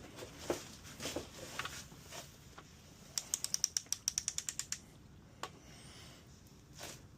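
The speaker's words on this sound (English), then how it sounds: "I think it's pretty cool with this torque wrench" Torque wrench ratcheting in a quick run of about a dozen sharp metallic clicks while bolts on a 2007 Ford Mustang 4.0 engine are tightened, preceded by soft handling noises and followed by a few isolated clicks, close and fairly quiet.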